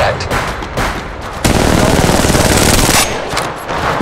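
Sustained automatic gunfire in the battle royale game Apex Legends Mobile, a dense rapid stream of loud shots that swells into a heavy continuous burst midway before easing back to scattered fire.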